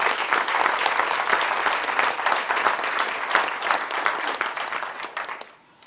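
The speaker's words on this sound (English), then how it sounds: "give them all a round of applause" An audience at a book launch claps steadily for rescue mission volunteers, a dense, even patter of many hands that holds for several seconds and then fades out at the end.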